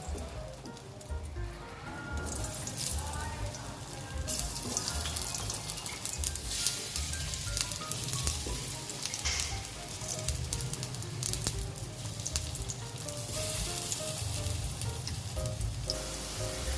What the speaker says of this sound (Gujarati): કઢાઈમાં થોડું તેલ એડ કરીશું। હવે તેમાં આપણા કેળાના પીસને એડ કરીશું।